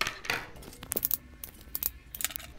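Scissors snip off the end of a zipper tab while sewing a double-zipper pouch, giving a few sharp metallic clicks and snips close by, scattered unevenly across a quiet room with no talking.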